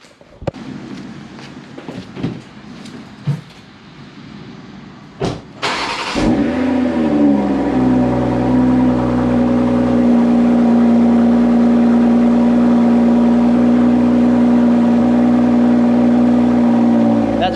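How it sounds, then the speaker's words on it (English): A 2020 BMW X3 M40i fires up after a few sharp pops and clicks, then settles into a loud, steady, deep exhaust drone that holds close and constant. "the first thing that I really like about this car is that exhaust note"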